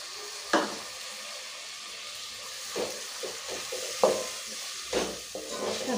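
Chopped tomatoes sautéing in a pan for mushroom biryani, a soft steady sizzle with a few sharp spoon scrapes and stirring knocks spaced through the short stretch.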